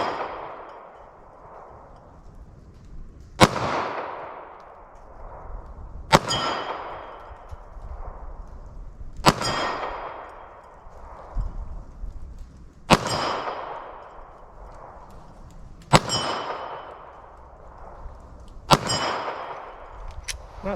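Six loud 9mm shots from a Ruger Security 9 pistol loaded with Winchester Ranger T-Series 147 grain rounds, fired one at a time every few seconds, each a sharp crack followed by a ringing decay.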